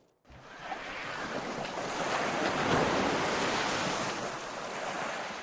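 Ocean waves break and wash up a beach in a steady, broad roar of surf, loud and continuous with some wind noise, no voices.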